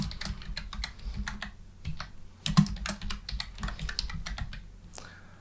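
Keystrokes on a computer keyboard as a project name is typed, a rapid, uneven run of close clicks with short pauses between bursts and no speech.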